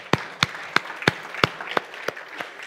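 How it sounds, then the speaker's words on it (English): A small audience claps in scattered, separate claps at a church service, about nine sharp hits spread across a couple of seconds, close and fairly loud with no talking. "Give them applause."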